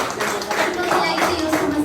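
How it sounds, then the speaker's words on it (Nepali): An audience claps enthusiastically at a testimony gathering, a dense, steady burst of applause lasting about two seconds, close and loud. "जोरदारको ताली"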